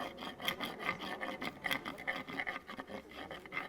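A stone is rubbed slowly across a deer antler to abrade and polish it, giving close, rhythmic rasping strokes like filing, steady back-and-forth scraping with no voices.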